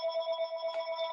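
A telephone rings during an online presentation, a steady pulsing electronic trill with fast regular beats, clear and fairly close, with no talking over it.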